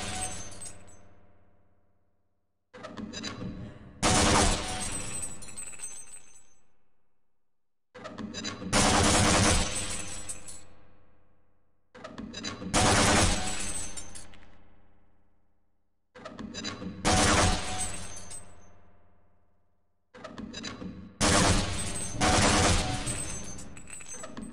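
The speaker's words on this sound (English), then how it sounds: "To fire your grenade launcher, press the fire button. Certain targets will break only if hit by grenades." Repeated weapon blasts from a grenade launcher on a Half-Life training course, with targets breaking apart. Five loud bursts come at regular intervals, each fading out before the next.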